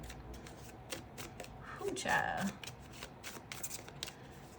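A deck of yes/no cards is shuffled by hand in a quick series of papery riffles and flicks, with a louder, denser burst midway, while a voice speaks briefly nearby.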